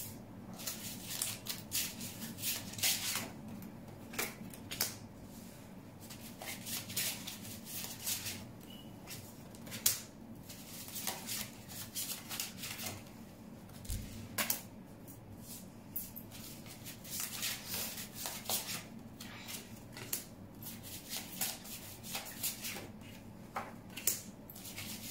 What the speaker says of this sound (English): As I go ahead and shuffle the cards, which is taking a while